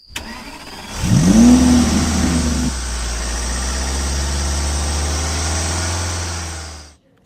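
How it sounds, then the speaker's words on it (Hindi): A police car's engine starts and gives a short rev, then drops to a steady, even idle that holds for several seconds before cutting off abruptly. "शिवा तुम गाड़ी चलाओ पहले।"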